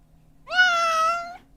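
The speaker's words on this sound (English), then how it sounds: "So this is a cat meowing." A single drawn-out cat meow, clear and fairly close, rising then holding steady before tapering off, with no other sounds around it.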